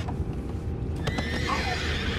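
A horse in Red Dead Redemption 2 whinnies with a high, wavering neigh over a low rumble of ambient noise and soft hoof movement.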